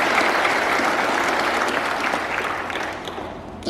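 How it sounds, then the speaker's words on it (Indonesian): Sustained audience applause at a farewell and welcome ceremony for the outgoing governor and vice governor of East Nusa Tenggara, steady and dense clapping from a large hall crowd that tapers slightly toward the end. "Sekali lagi aplaus untuk semuanya."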